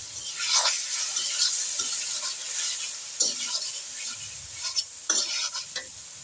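Cumin-coriander paste and slit green chillies sizzle in a pan of Bengali fish curry, a steady hiss broken by several sharp scraping strokes of a spoon stirring, close by and with no talk.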